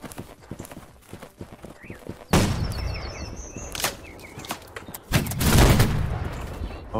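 Musket volley fire in the game Holdfast: Nations at War, with sharp, loud gunshot bursts cracking out in a couple of clusters over background noise and hoofbeats.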